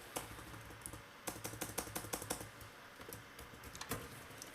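Rapid typing on a computer keyboard, a steady run of light clicks with a few louder bursts, fairly quiet and with no voices.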